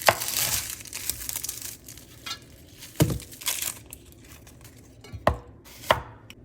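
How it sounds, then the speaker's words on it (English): A knife chops through a white or yellow onion on a cutting board, making irregular crisp cuts with crinkly skin rustles between them, close and loud, with a few sharp isolated thwacks near the end. "So I cut the onion in half,"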